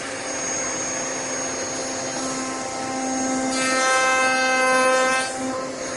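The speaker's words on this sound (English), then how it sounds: "turn our router on, and make our cope cuts" A wood router makes cope cuts on the end grain of small pieces for glass panel doors, a steady loud whine with tonal hum that rises as the cutter bites into the wood.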